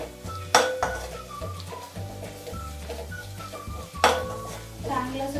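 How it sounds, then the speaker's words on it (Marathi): Spices for an Agri-style goat intestine (mutton vajdi) masala are stirred in a pan. A spatula scrapes and clatters against the metal, with two sharp clanks standing out. Faint sizzling sits underneath, and background music plays throughout. "आणि चांगले जे मसाले आहेत ना ते परतून घ्यायचे आहेत"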